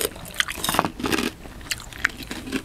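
Crunchy squid salad with sticky rice noodles is chewed close up, giving wet crisp crunches in bursts with brief pauses between bites.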